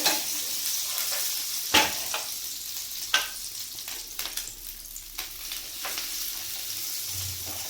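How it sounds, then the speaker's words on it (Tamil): Butter sizzles in a hot pan while being spread for a bread omelette, a close, steady hiss broken by several sharp utensil scrapes and taps, with no voices. "பட்டர் விட்டு இப்படி நல்லா ஸ்ப்ரெட் பண்ணிவிட்டு"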